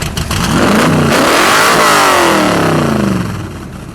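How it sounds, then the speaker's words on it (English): A Factory Five 1965 Cobra replica's V8 engine is revved hard once, close and loud. It climbs to a roaring peak, holds briefly, then settles back down toward idle. "Give it one good rev. One more time."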